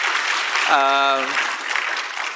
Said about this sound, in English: I think Prime Minister deserves an applause for that